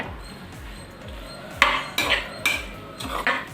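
A utensil scrapes and clinks against a pan in several separate strokes while vada pieces are stirred and sautéed, close by and fairly loud, over a low steady background hum.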